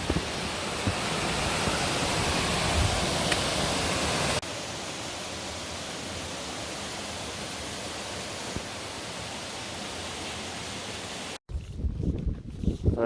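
A waterfall near Stirling roars as a broad, constant rushing hiss, loud and unbroken for most of the stretch before a sudden cut to other noise.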